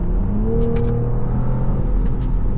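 A BMW X7 accelerates in sport mode, its engine holding a loud, steady drone with a slight rising pitch heard from inside the cabin, accompanied by a series of faint rhythmic ticks, with no talk.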